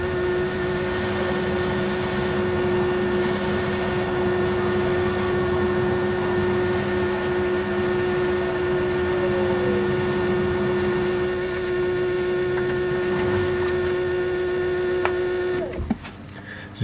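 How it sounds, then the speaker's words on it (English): A washing machine runs in a small workshop, giving a loud, steady machine drone with a constant hum and whirring that carries on throughout, then cuts out abruptly near the end. "Please excuse the noise of the washing machine."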